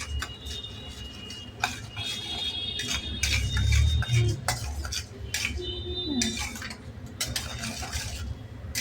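Chana dal frying in a pan, stirred with a spoon that scrapes and clinks against the metal over a soft sizzle, with scattered taps and a low rumble in the background.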